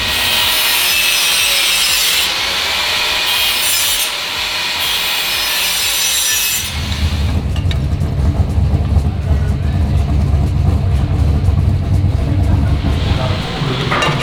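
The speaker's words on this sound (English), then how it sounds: "It's been about an hour of trimming so far" Metal trimming on a turbocharged V6 Toyota Camry build: a harsh, continuous cutting and grinding rasp, close and loud, shifting to a deeper, rougher tone partway through.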